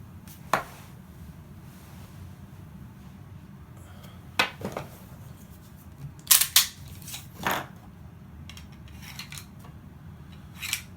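Rounds being loaded into a Smith & Wesson M&P pistol magazine with an ETS C.A.M. mag loader, heard as a few sharp metallic clicks and clacks spread irregularly over a quiet background.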